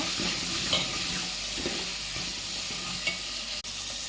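Tomatoes fry for sambar in a pan, giving a steady close sizzle with soft scraping and stirring, and a brief clack near the end.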